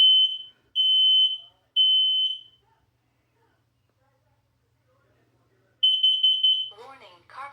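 A combined smoke and carbon monoxide alarm on a second floor sounds during a test: three loud, piercing beeps, a pause, a longer beep burst, and then a synthetic voice speaks.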